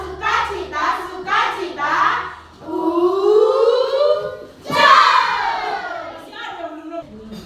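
Children in a classroom perform a rhythmic clapping chant, voices singing in loud stretched syllables with bursts of hand claps in a steady pattern, close and lively.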